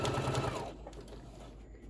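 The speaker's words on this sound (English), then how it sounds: "If you're new to sewing, just, you know, guide your fabric and sew slowly." A sewing machine stitching the fabric seams of a tote bag whirs in a fast, close rhythm for about half a second, then stops, leaving quiet room tone with faint handling clicks.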